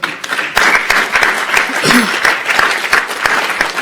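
Audience clapping at a county commission meeting, a dense and loud burst of many hands in a hall, steady throughout, with a few voices and a brief vocal sound mixed in.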